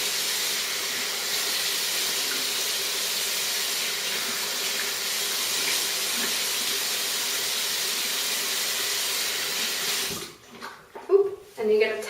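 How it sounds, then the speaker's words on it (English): Warm water runs steadily from a sink tap for about ten seconds as a face is washed, a close broadband hiss that stops abruptly, followed by a few soft splashes and handling noises. "So now we wash with warm water."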